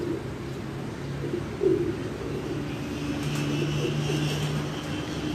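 Soft, low pigeon cooing rises from steady outdoor background hum near Taramri Chowk, Islamabad, with a faint bump of movement early on and no talking.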